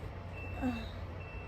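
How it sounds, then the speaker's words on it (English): A truck reversing outside: a faint, distant steady beep over a low rumble of traffic or engine noise. "there's literally a truck outside"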